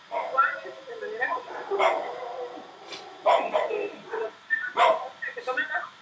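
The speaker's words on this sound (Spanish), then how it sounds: "tengo un pleito de perros. Aquí afuera." Several dogs fight and bark outside, with sharp repeated barks, yips and whimpers coming in bursts, fairly near and loud.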